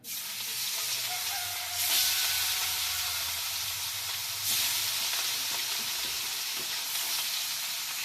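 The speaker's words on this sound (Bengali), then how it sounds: "মাছগুলোকে ভালো করে লবণ হলুদ মাখিয়ে নিয়েছি, এবার গরম তেলে দিয়ে দেবো" Salted, turmeric-rubbed katla fish frying in hot oil, a steady close hiss of sizzling with brief louder surges, continuous throughout with no talk.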